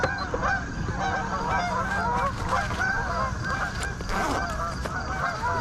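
A large flock of geese honking continuously by a river, many overlapping calls at once, fairly close and loud with a busy, raucous texture.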